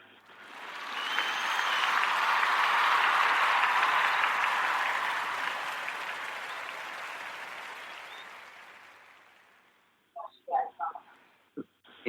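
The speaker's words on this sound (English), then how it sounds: "Let's give her a hand clap" Warm audience applause of many hands clapping swells steadily, holds for several seconds, then fades away, followed by a few brief spoken sounds.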